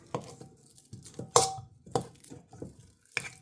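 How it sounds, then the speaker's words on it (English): Two sticks of softened butter being creamed in a bowl for thumbprint cookies, with intermittent scraping and clinking knocks of the utensil against the bowl, fairly close and quiet. "I'm going to cream 2 sticks of butter"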